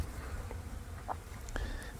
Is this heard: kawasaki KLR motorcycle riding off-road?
no